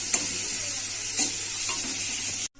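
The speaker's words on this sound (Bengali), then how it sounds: "পেঁয়াজটা ভাজা হয়ে গেছে" Sliced onions fry in oil in a wok for egg biryani: a continuous close, bright sizzle broken by a few scraping stirs of a spatula, then it cuts off abruptly.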